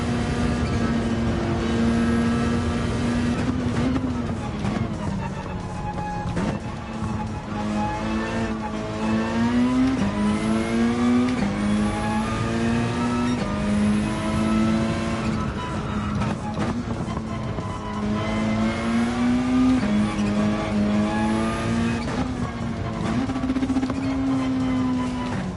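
Race car engine in Gran Turismo 7 howling steadily, its pitch climbing and dropping through repeated gear changes as it pushes around the track, loud and continuous with no voices over it.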